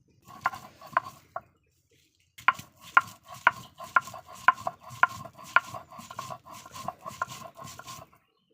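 Shrimp, garlic, coriander and salt are pounded and ground for shrimp bharta in a village kitchen, giving rhythmic, evenly spaced knocks in two bursts with a short pause between, close and without talk.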